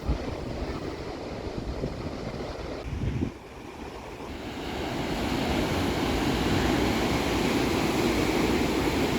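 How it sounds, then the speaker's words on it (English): Strong wind and waves roar over a rocky beach at Caloundra's Shelley Beach, a dense continuous surf wash with gusting wind that swells louder and fuller about halfway through, with no voices. "the intensiveness of the weather, wind and the waves was undeniable, as well as its rockiness"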